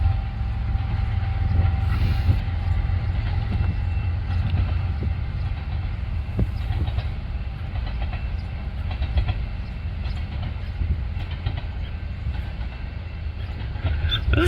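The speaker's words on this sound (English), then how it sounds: "One, two locomotives. At least they're going fast." Two fast-moving train locomotives pass close by a backyard, a steady loud rumble of wheels and rolling stock with creaks and clicking rail joints running continuously throughout.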